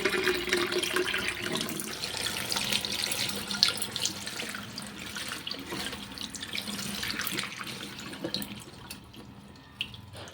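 Tap water runs steadily into an iron-stained prayer-room basin while flowers are washed, a soft continuous splashing with small drips, fading near the end.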